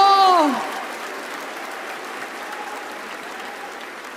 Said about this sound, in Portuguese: Give Jesus a big hand of praise.